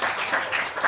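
A short, dense burst of audience applause at an event, loud and continuous with no speech over it.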